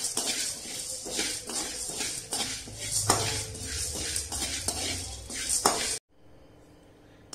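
Idli podi ingredients dry roast over medium flame while a utensil stirs and scrapes them around a pan, making repeated close clinks and rattling shuffles. The sound stops abruptly near the end, leaving near silence.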